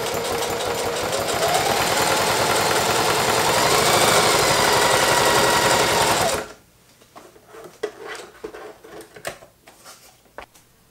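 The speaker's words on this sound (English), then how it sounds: "I'm going to see if it'll do a decent zigzag stitch on it" A Singer HD sewing machine zigzag stitches through two layers of thin leather, its motor whirring loud and steady for about six seconds before stopping, followed by quieter clicks and handling noises.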